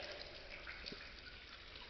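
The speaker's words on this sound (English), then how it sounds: "I've got the water splashing" Water splashing and trickling inside a tunnel, a steady broadband wash of running water that fills the whole clip with faint drips on top, fairly quiet and continuous with no voices.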